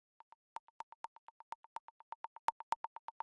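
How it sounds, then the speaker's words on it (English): A short wood block percussion sample, a hollow clave-like plonk, plays in a quick, slightly uneven pattern of about twenty-five dry hits at a steady pitch, some louder than others, with nothing else underneath. "this little plonk slash clave slash tom, whatever you want to call it, a wood block"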